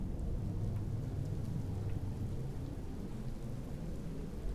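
Heavy acid rain pouring in Empyrion Galactic Survival, a dense continuous hiss with low rumbling thunder underneath, steady and enveloping throughout with no voices.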